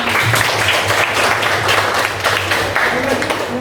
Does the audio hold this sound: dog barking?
no